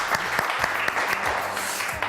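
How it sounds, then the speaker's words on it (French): Brief burst of studio audience clapping for a radio show caller, steady and fairly close, with scattered sharper individual claps throughout. "Et on l'applaudit, elle est sympa, Cindy."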